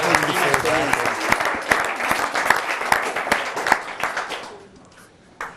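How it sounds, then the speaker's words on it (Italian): Audience at an Italian basketball federation event (CONI Veneto) claps steadily, dense broadband applause with sharp individual claps, fading out toward the end with a brief noise near the close. "Facciamogli un applauso allora, dai."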